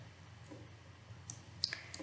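Mouse clicks on software buttons in the Fusion 360 3D modeling program: three short, faint clicks near the end over a steady low hum, with no one talking.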